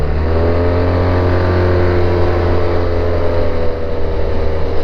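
A Honda Silverwing maxi scooter engine hums steadily while riding, a loud, close, even drone with a slight rise in pitch and a little wind rush, and no voice.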